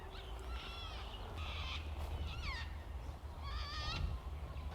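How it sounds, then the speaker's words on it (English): Sulfur-crested cockatoos give several harsh, raucous screeching calls in short bursts over a low outdoor rumble. The calls are fairly distant. "I can hear plenty of sulfur-crested cockatoos."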